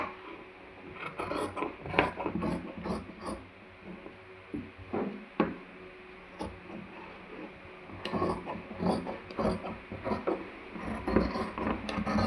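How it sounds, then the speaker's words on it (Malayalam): Scissors cut fabric for a nighty in a round shape, producing irregular crisp snips and rustling mixed with soft knocks and handling noises at moderate, close range. "എന്നിട്ട് കത്രീനെ കയറ്റി വെച്ചിട്ട് റൗണ്ട് ഇങ്ങനെ കട്ട് ചെയ്യണേ."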